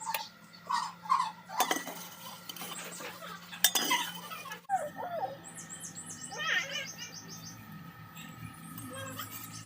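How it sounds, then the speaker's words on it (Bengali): Boiled raw jackfruit pieces are drained through a strainer in a kitchen, with metal utensils clinking and knocking in scattered bursts while birds chirp faintly in the background. "এবার চুলো বন্ধ করে একটা ছাঁকনি বা ঝাঁঝরির সাহায্যে আমি এগুলো পানি থেকে ছেঁকে নিচ্ছি।"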